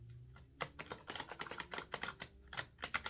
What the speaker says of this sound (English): I never can shuffle this way very well, you know.